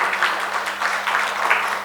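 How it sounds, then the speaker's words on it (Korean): Church congregation applauding at a Sunday morning service as three members are called forward to receive Bible study certificates, a steady moderate wash of clapping heard at a slight distance. "박수 쳐주시기 바랍니다."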